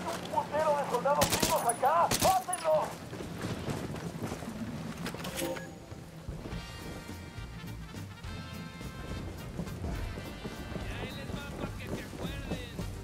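Gunfire in Ghost Recon Wildlands rings out in a few sharp broadband bursts early on, with a voice and steady wind-like background noise running through the rest.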